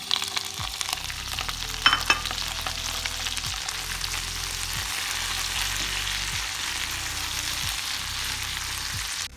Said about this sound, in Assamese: কেঁচা জলকীয়া এখিনি ধুনিয়াকৈ ভাজি কৰিম